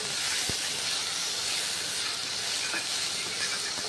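Bitter gourd pieces hitting hot oil in a kadai, a loud, continuous close-up hiss of frying with a brief tap of the spoon early on.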